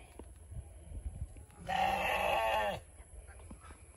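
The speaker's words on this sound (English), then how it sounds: "Hey, sheep." A single sheep bleats once, a wavering call lasting about a second, fairly close against a quiet outdoor background.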